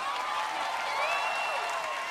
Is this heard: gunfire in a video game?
no